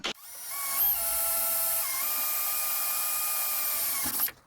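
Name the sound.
power drill drilling a hole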